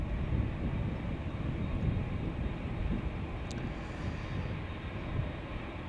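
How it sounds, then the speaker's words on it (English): A KLM Boeing 787-9 Dreamliner jet departing Amsterdam Schiphol for Bogota, a steady broad engine roar, constant and moderately loud without speech. "we have KLM flight 749, which is going to Bogota in Colombia, 7879 Dreamliner"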